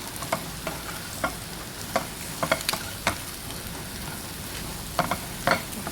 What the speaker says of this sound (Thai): จากนั้นเราก็ใส่เห็ดลงไปเลยนะคะ ผัดเห็ดให้สุกเลยนะคะ